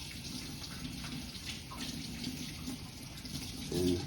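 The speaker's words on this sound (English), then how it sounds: "Wash my hands again." Hands washed under a running tap in a kitchen while pork butts are prepared for barbecue; a steady broadband rush of water flows throughout, with a brief splashy surge near the end and no talking.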